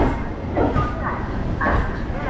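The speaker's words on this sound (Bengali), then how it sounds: "এখন ট্রেন এসে ঢুকছে কলকাতা স্টেশনে" A local train pulls into Kolkata station, its steady rumble and rattle running throughout with faint voices talking over it.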